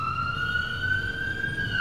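An ambulance siren wails steadily and close, holding one continuous high tone over a low rumbling background for the whole moment.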